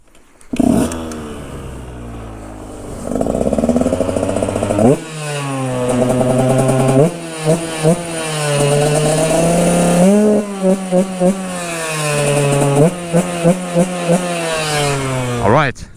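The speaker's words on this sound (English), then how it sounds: "My Husqvarna Te125." Husqvarna TE125 supermoto two-stroke motorcycle revved hard in repeated blips, each sharp rise and fall of the engine note loud and close, separated by brief idle dips.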